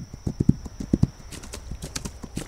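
Horse hooves clop in an uneven trotting rhythm while riding in the game This Land is My Land, the strikes close and fairly loud over a faint steady tone and light background noise.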